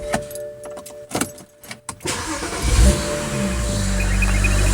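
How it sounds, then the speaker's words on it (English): A BMW 335i is switched off and started again: a few sharp clicks and clunks with brief quiet gaps, then the starter catches and the engine settles into a steady, close idle rumble. "So I'm going to stop and restart it"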